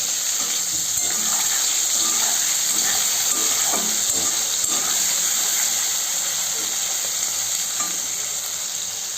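Fish rubbed with salt and turmeric frying in mustard oil in a pan, a steady, dense sizzle with crackling pops, close and loud throughout without a break.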